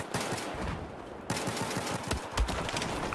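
Suppressed AK-12 rifle fire in the Battlefield 4 video game, a dense, continuous burst of muffled gunshots with scattered louder cracks running throughout, close and steady.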